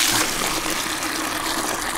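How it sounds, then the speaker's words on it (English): Water gushes hard from a wide-open faucet through a regular garden hose into a bucket, a steady, loud, broadband rush that holds constant for the whole stretch with no talk over it. "Wide open faucet with regular hose."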